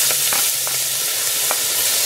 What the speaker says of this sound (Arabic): درت الزيت ديال المائده، غادي ندير شويه ديال الثومه مقطع طريفات صغار